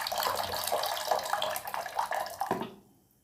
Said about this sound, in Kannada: ನಾನಿಲ್ಲಿ 4 ಕಪ್ ಆಗುವಷ್ಟು ನೀರನ್ನು ತಗೊಳ್ತಿದ್ದೀನಿ.